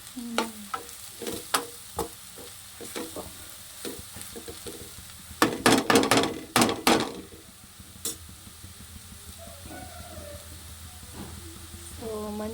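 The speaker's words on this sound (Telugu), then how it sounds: "మంచి స్మెల్ వచ్చే వరకు దీన్ని వేపుకుందాం" Bitter gourd fries in hot oil in a pan, giving a steady low sizzle punctuated by stirring clinks and a louder burst of scraping around the middle.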